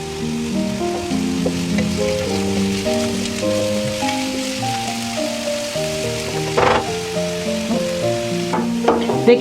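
Finely chopped onions fry in oil until brown, giving a steady sizzle throughout, partly masked by background music.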